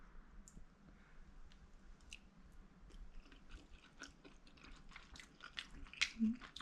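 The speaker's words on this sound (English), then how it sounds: "I'm gonna take a bite for you guys, of course." Quiet, close crunching and wet chewing follow a bite of green mango served with Guyanese shrimp curry, with faint soft squishes and clicks and no speech.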